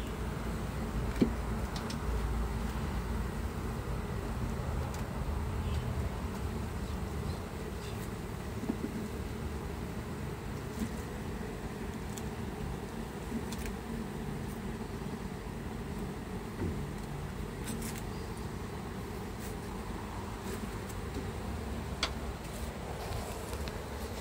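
Steady buzzing of many bees around hive boxes fills the air, a constant insect drone with occasional faint ticks and clicks, no voices present.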